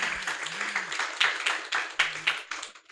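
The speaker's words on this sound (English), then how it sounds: "If we could all welcome our speakers with a applause" A small conference audience at a COP16 panel claps to welcome the speakers, a thin uneven patter of hands with a few faint voices underneath.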